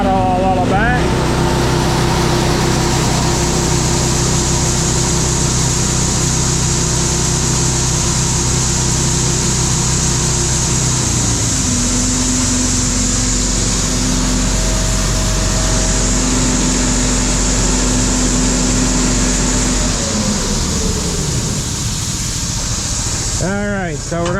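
Engine running steadily and loud on farm seed-handling equipment, a continuous droning hum that shifts pitch around the middle as the throttle is raised, with a voice talking over it.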